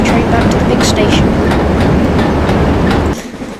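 A train runs on rails in a loud, steady roar with rhythmic clickety-clack wheel beats, close by, then drops away abruptly near the end.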